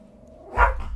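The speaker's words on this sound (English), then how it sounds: "Sorry, my dog is barking." A house dog lets out a single short, loud bark close by, preceded by a low murmur of room sound.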